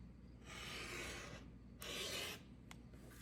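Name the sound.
cutting stacked fabric blocks diagonally corner to corner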